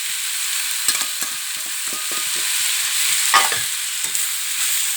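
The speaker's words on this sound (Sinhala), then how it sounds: "එකතු කරලා හොඳට කලවම් කරගමු." Cabbage tempering in a pan with curry leaves, rampe, pepper, salt, chili flakes and turmeric: a steady, fairly loud sizzle with repeated scraping stirs of the spoon against the pan.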